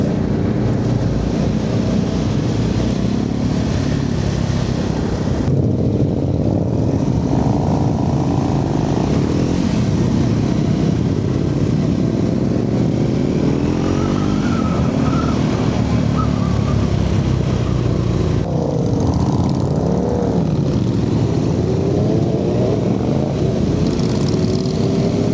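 Motorcycles ride in a group during the Distinguished Gentleman's Ride in London, a continuous loud engine drone with passing bikes and shifting revs from close by, along with wind noise and no speech.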